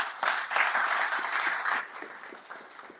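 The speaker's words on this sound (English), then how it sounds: "Let's clap for him again." Applause for a speaker at a parents' seminar on innovative education, steady and fairly close for most of the clip, then thinning into a few scattered claps.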